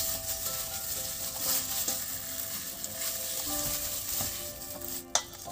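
Tofu cheesy stick ingredients with milk are being stirred together while a pan sizzles steadily throughout, with a brief clatter of utensils near the end.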